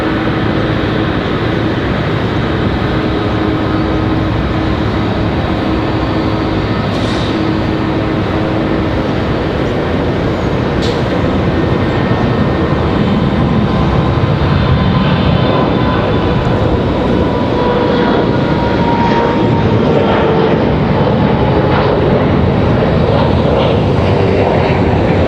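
Loud, steady roar of a Republic Airways jet airliner at Raleigh-Durham airport, its broadband engine noise swelling gradually and staying strong throughout.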